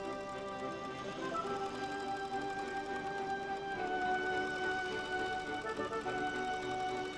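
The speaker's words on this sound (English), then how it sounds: "the lining pieces are sewn together." A sewing machine stitches leather shoe lining pieces together in a traditional English shoemaking workshop, a steady close whirring hum with a fine continuous ticking rhythm running without pause.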